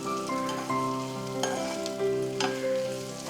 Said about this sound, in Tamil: பாவக்காய் வதக்கிறதுக்கு ரொம்ப கஷ்டப்பட வேண்டாம்,